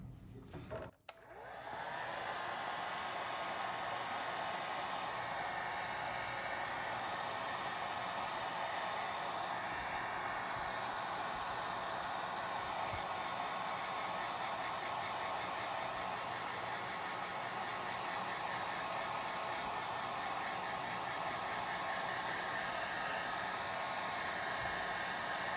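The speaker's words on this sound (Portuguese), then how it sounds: "é só passar o secador que essa caneta aqui," Hair dryer blowing on cloth doll fabric to erase disappearing-ink pen marks: a brief click as it switches on, then a loud, steady whooshing hiss with a high whine that runs unbroken for over twenty seconds, no talking.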